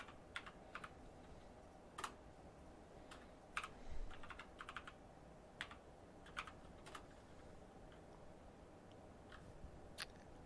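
Quiet, close typing on a computer keyboard as a username and password are entered, with irregular clusters of key clicks separated by brief pauses over a low background hum.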